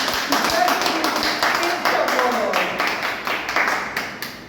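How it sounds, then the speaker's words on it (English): Scattered hand clapping from a small group at a Toastmasters club meeting, steady for a few seconds, with a voice talking loosely beneath it. "Can we have a round of applause for the lady?"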